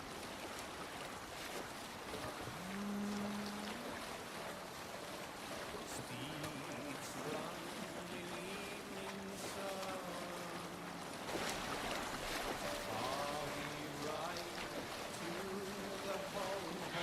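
A sailing ship glides across open water in Assassin's Creed Valhalla, with a steady wash of waves, wind and creaking hull under layered game music and tones, continuous and fairly loud throughout.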